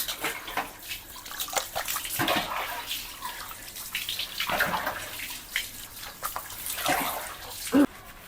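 Water runs and splashes steadily while hair is washed indoors, a close, continuous gush with uneven surges and a short sharper splash near the end, and no talking.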